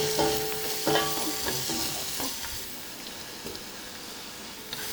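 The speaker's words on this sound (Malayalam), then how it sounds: "സവാള ഒരു 3 നീളത്തിൽ അരിഞ്ഞതാണ്, അതോടെ ചേർത്ത് വഴറ്റി കൊടുക്കാം." Long-sliced onions sautéing in a pan with salt and slit green chillies for chicken biryani, a close hiss of frying with scraping stirs of a spatula at the start, easing to a steadier sizzle.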